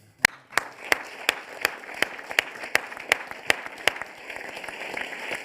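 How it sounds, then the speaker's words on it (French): Rhythmic unison clapping at a French poetry gathering: sharp, evenly spaced claps about three per second stand out over a softer bed of scattered applause that grows toward the end. "vous demander d'applaudir"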